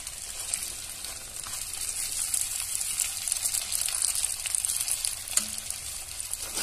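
Potatoes sizzle and crackle in a hot pan, a steady bright frying hiss with occasional stirring sounds.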